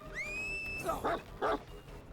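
The Houndmaster's dog in the video game Dead by Daylight gives a whine followed by two sharp barks, fairly quiet over steady game background noise.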